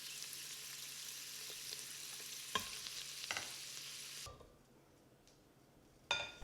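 Carrots sautéing in butter, a steady soft sizzle with occasional stirring clicks of a utensil against the pan, ending with a brief sharper scrape.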